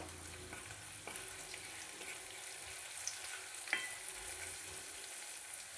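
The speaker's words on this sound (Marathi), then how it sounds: "तुम्ही पाहू शकता इथे मिरची आणि लसूण त्याला चांगला परतून झालेला आहे" Green chili and garlic sizzle steadily in hot oil, a dense continuous frying hiss with occasional soft stirring scrapes and small pops, close and even throughout.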